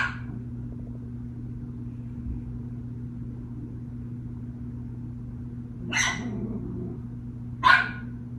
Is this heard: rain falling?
no